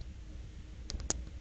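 A single Enter key pressed on a computer keyboard while typing terminal commands, two or three faint, sharp clicks close together over quiet room hiss.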